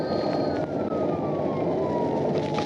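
A police car siren wails steadily during a highway pursuit, heard over loud continuous road and engine roar from inside a moving vehicle.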